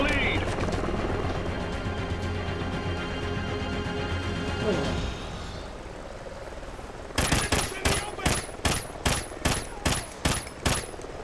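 Helicopter support from a friendly helo pilot in the shooter game Call of Duty Ghosts: a steady rotor drone for about five seconds, then a rapid burst of loud, evenly spaced gunfire cracks, with voices speaking over it.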